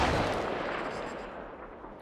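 Gunfire in the video game Apex Legends, a loud, close burst whose boom decays over about two seconds, ending in a sharp crack.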